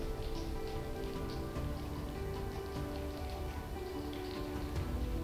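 A group of people tapping their hands together to imitate rain at a live event, a dense, continuous pattering that stays steady and fairly loud throughout, with no talking.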